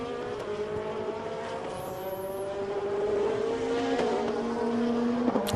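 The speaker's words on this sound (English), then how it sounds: "Up ahead, meanwhile, Barry tries to pass the number 27 Ferrari for the lead." GT race cars, a Corvette and a Ferrari, roar past on a circuit, their engines droning at high pitch and rising in loudness as they close in, with a brief tire squeal.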